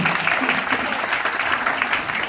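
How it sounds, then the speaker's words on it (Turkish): Audience applause at a student event for Women's Rights Day in Beykoz fills the room as a dense, steady wash of clapping for about two seconds, fairly loud and close. "Ama bu sözün bir alkış isterdi sanki"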